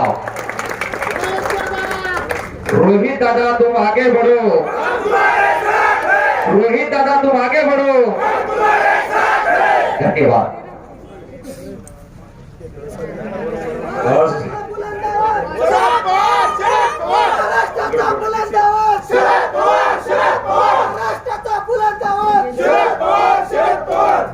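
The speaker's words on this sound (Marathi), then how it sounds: "दादासाठी एकदा जोरदार टाळ्या" A large crowd at an election campaign rally by Kanheri Maruti temple roars, chants and claps loudly for Rohit Pawar, with rhythmic shouted calls sustained throughout and a brief lull in the middle.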